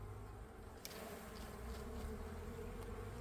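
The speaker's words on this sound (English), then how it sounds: "it's really hard to shake these bees on top, so I'll just shake them in the entrance" Honey bees humming steadily at a hive entrance in a bee yard, a dense, even drone close by with no voices.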